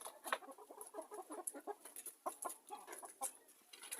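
Hens cluck in soft, irregular bursts, close by and faint, with a few sharper squawks, and no talking over them.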